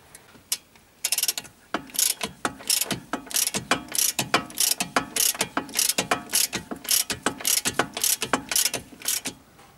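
A ratchet wrench tightens a nut on the back of a car drive shaft during a CV boot replacement, giving rapid, close, repeated clicking in quick bursts with no talk.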